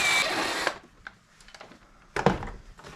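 A power tool whirs in a steady burst while backing out the 8mm bolts on the air filter cover of a 2016 Lincoln MKC / Ford Escape, then stops; a second shorter whir follows moments later.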